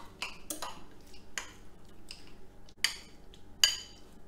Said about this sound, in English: So I'll just quickly mix it.